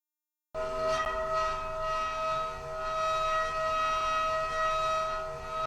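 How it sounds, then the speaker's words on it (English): High-pitched metallic sample looped back and forth in ping-pong mode as a tension layer for a Backrooms horror trailer, a sustained, eerie, siren-like drone with steady ringing tones, moderately quiet and uninterrupted. "And it is this metallic layer,"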